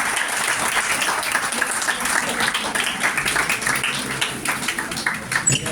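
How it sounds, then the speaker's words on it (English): An audience at a college Teachers Day celebration gives a sustained round of applause for the teachers, with dense, loud clapping continuing throughout and faint voices mixed in. "Please give a big round of applause to them."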